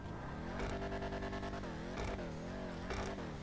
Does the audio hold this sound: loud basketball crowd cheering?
no